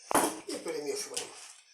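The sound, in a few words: stirring pike fillet with egg in a bowl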